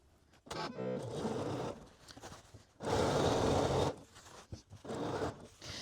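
A sewing machine runs in short bursts while stitching a skirt's front seam, right sides together, at a half-inch allowance, with one longer steady run in the middle and quieter handling pauses between.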